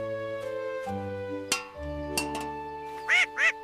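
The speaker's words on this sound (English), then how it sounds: "There's our duckling now." A cartoon duckling quacks twice near the end of a children's nursery rhyme, two short bright calls heard over sustained music.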